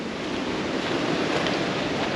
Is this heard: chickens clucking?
no